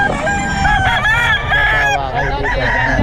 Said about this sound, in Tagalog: nasa 2K lang mga manok ni Boss Ken